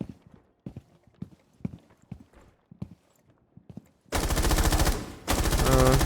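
Rainbow Six Siege gunfire: after a stretch of soft footsteps and clicks, two loud, dense bursts of rapid automatic shots ring out close, separated by a short pause.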